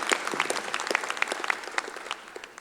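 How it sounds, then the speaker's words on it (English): Audience members clap at a medical college hooding ceremony, a thin scattering of hand claps at moderate distance, fairly quiet and uneven throughout. "You can clap."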